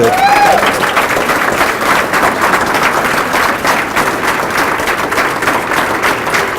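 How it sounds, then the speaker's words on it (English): Sustained applause fills a school board meeting as teachers are recognized, a crowd clapping steadily and fairly loud throughout, with a brief tonal squeal at the very start. "So a big round of applause for all of our teachers."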